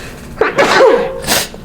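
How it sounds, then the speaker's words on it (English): A person sneezes once, loud and close, with a sharp intake of breath leading into a burst and a short exhaled trailing sound, heard alone. "I got to sneeze."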